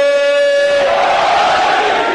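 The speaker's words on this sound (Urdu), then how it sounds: "اگر نعرے لگانا ہے سب مل کے نعرہ لگائیں بلند آواز میں" A crowd at a sit-in protest near the Governor House roars the slogan Naara-e-Haideri together, a lone sustained voice swelling into a loud, massed collective shout.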